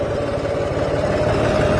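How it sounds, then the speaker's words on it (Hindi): A John Deere 5210 tractor engine pulls under load in third gear in a farm field, a loud, steady diesel drone with a throbbing low rumble and no pause. "3 नंबर गियर के अंदर भी ट्रैक्टर उठ गया है बिल्कुल।"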